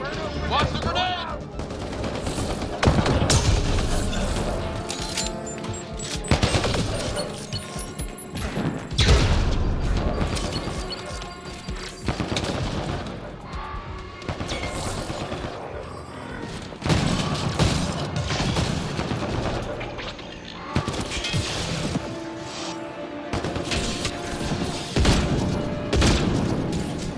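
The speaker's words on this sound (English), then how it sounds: "Watch the grenade!" Grenade blasts and bursts of gunfire in a Mass Effect Andromeda firefight: dense, loud volleys of shots and booms run almost without a break, with voices mixed in.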